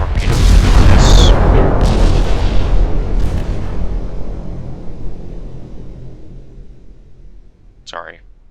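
A heavy torpedo explosion in the naval strategy game UA:D bursts loud at first, then rolls into a deep rumble that slowly fades over several seconds, with a short faint tone near the end.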